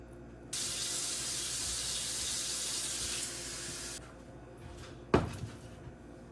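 Cold tap water gushes steadily into a pot for a few seconds, then shuts off, followed by a sharp clatter of a pot or cupboard knock.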